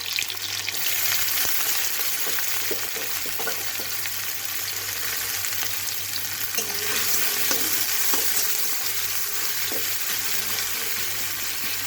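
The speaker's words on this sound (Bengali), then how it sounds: "তেল গরম হয়ে গেছে প্রায়, রসুন নেব, পেঁয়াজ রসুন ফোড়নে দিয়ে দিচ্ছি।" Continuous hissing sizzle of onion and garlic frying in hot oil as tempering for a dried-fish chutney, a dense crackling wash with occasional stirring scrapes, steady and close with no talking.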